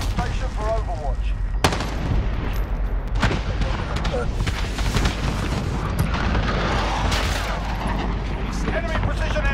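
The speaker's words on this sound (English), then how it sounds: "Allied cluster strike inbound" Cluster strike explosions rumble through a dense Call of Duty: Modern Warfare firefight, with loud, continuous booms, blasts and gunfire crackle packed together with no quiet gaps.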